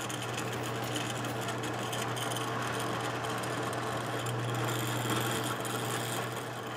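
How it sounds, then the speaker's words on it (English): A power tool cuts a sheet metal plate for a sanding block, giving a continuous, steady mechanical whir with a low hum that runs evenly and close by throughout. "Last part to cut out is the sheet metal plate that clamps the sandpaper in place."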